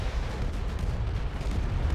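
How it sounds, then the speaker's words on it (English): A Malgrim's big beam cannon fires in the space strategy game AI War 2, making a steady, dense, booming rumble that roars without a break for the whole stretch, heavy in the low end, with no voices. "Malgrim with its big beam cannon."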